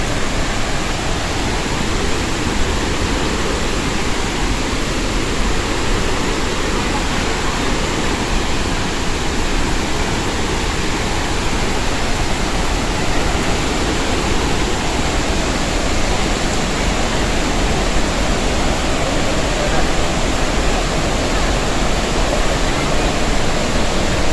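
A big waterfall roars as a loud, unbroken wash of rushing water, heard up close with no change or pause across the whole stretch and no voices.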